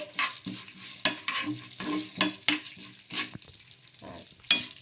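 Urad dal frying in a pan on a low flame for puffed-rice dosa batter, with repeated stirring scrapes over a soft steady sizzle, near and moderately loud, no voices.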